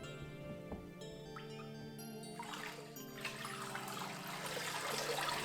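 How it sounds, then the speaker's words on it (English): A mold and deckle scoops recycled paper pulp out of a vat of water, bringing sloshing and a swelling splash and trickle of draining water, close and growing louder toward the end over a faint music bed. "I get my mold and deckle ready and scoop up the pulp"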